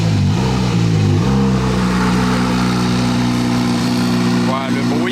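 A Lafitte LM1 race car engine roars loudly and continuously, its pitch sweeping up and down as it revs, with rising whines near the end; a voice may be faintly present underneath.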